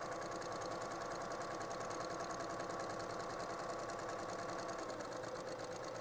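Sewing machine running steadily while stitching down the folded edge of a fabric body bib, a continuous even mechanical whir with a fast repeating needle rhythm, fairly quiet and with no talking.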